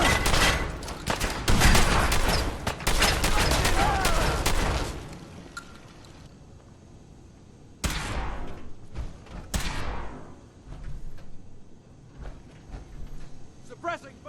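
Suppressing gunfire in Fallout 4 rattles in a dense, loud burst of rapid shots for several seconds, then single sharp reports ring out later, with voices heard between them.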